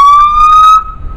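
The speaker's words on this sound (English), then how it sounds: "it will turn on the siren" A police car siren sounds very loud and close, a single bright rising wail that holds for under a second and then cuts off abruptly.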